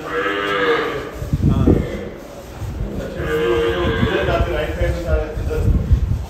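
Cattle at a large cow shelter, including a rare black Kapila cow, low with drawn-out moos rising over steady background chatter and farm ambience, with people talking nearby.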